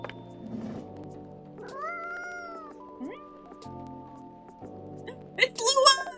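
A cartoonish cat meows in a video game, a few short tonal mews over background game music, with people talking and a brighter, louder flurry near the end.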